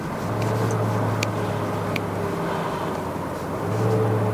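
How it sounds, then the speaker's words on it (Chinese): Steady engine drone from a 2.8-litre Toyota Hilux GR Sport pickup climbing a mountain road, a constant low hum filling the whole stretch with a slight swell near the end as it downshifts, no voices. "这降档不错呢"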